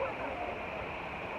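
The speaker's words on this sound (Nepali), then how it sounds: "झर्ना यही" A waterfall pours down among large rocks, a continuous broadband roar of rushing water with a faint voice mixed in beneath it.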